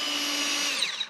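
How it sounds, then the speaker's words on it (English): A power drill whines steadily as it bores holes through the mounting ears of a part for a giant-scale 81-inch Seagull Cessna 310 model airplane, a loud, close continuous tone that winds down briefly near the end. "I drill holes through the ears"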